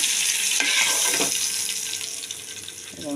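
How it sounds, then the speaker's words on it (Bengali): Hilsa fish heads frying in oil make a loud, dense, continuous sizzle close by, with faint stirring knocks under the spitting and no voices. "আর এখানে নিয়েছি আরেক দুটো মাছের মাথা আছে এই দুটো ভাজা হলে আমি তেলে কালো জিরা ফোড়ন দিয়ে এটা বানাবো"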